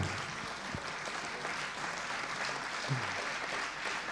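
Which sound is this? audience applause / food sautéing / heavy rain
audience applause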